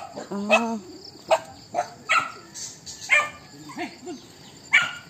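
Several sharp barks and yips from a pregnant dog spaced irregularly across the clip, fairly close, with faint background noise between them.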